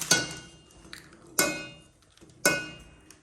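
Three distinct metallic clanks of a utensil striking a pot, spaced about a second apart, with quiet scraping between them.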